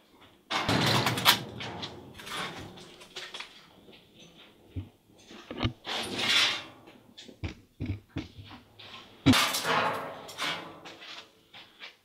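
A thick, heavy door at an abandoned Nike missile base is moved, giving loud scraping and grinding bursts, clanks and thuds at uneven intervals, with brief quieter gaps between them.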